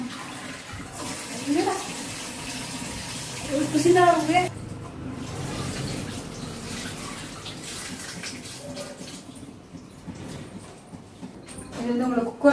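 Water heats to a boil in a cooking pot for rice, with a continuous bubbling and sloshing and a few sharper splashes, while someone talks over it.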